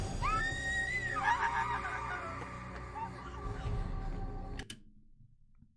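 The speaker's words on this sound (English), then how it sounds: "she heard someone screaming" A woman screams in the 2014 Japanese horror film Death Forest: a rising, wavering shriek near the start that fades into a dense, tense background of noise and music, which ends abruptly before a quieter stretch.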